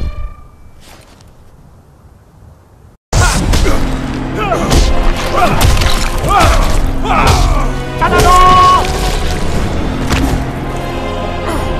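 Mortal Kombat fatality finisher for Kenshi, opening on a faint voice and hum before a loud burst of game effects: repeated heavy thumps, whacks and crashes with whooshes over a musical bed, a voice calling out near the start.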